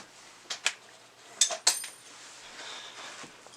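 A bushcraft knife scraped against a ferro rod, four sharp bright strikes in two quick pairs, close and loud over a quiet background.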